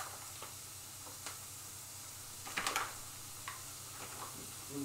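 Plain grey mincemeat, under 12% fat, frying in a pan with onion, giving a faint steady sizzle with occasional soft clicks and scrapes of stirring, quiet and close.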